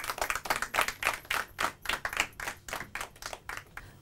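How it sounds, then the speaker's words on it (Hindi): Group applause breaks out at a Hindi-language quiz show after a correct answer: a steady, rhythmic run of sharp claps at moderate level, with no talking over it. "तालियां हो जाए।"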